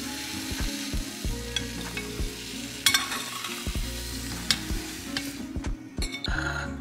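Eggs and spinach fry in a hot pan while being stirred, a steady sizzle broken by repeated sharp scrapes and clicks of a utensil against the pan, close and fairly loud.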